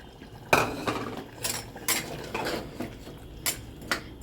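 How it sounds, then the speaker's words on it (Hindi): Keema and chopped tomato are stirred and fried in a pot, with a metal spoon scraping and clanking against the sides in separate strokes over a low simmering sizzle, close by and with no talking. "अब बीच बीच में हम चलाते जाएंगे और भूनते जाएंगे"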